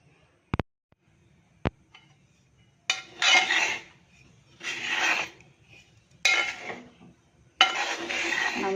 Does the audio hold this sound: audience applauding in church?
no